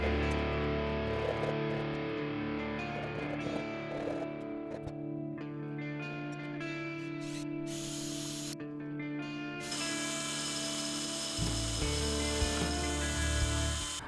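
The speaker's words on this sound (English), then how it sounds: "I'm gonna drill a tiny hole in the end through both the nut and the threaded rod" A power drill whines steadily at close range, boring a tiny hole through a nut and threaded rod for a guitar truss rod, its motor pitch shifting slightly, with a brief change in tone near the end as the bit breaks.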